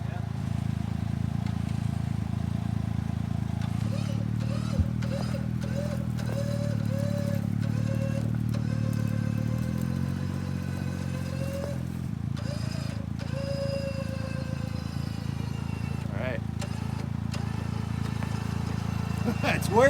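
An off-road vehicle's engine drones and revs steadily while the vehicle is pulled sideways on a trail, with people talking over the continuous motor noise.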